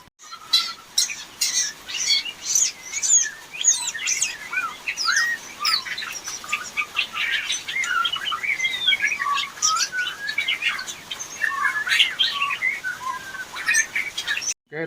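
Lively white-rumped shama song with rapid chirps, whistles and squawky notes repeating continuously, fairly close and loud, no voices.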